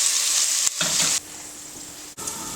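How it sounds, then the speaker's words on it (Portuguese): Asparagus sautéing in a pan with oil gives a loud, continuous sizzle and crackle, briefly stirred, then the frying dies down to a quieter hiss as the heat is turned off. "Agora que os aspargos já refogaram, eu desligo a panela e transfiro para um prato."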